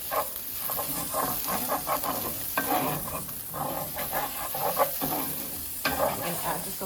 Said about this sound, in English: We're just going to get the rice nice and brown.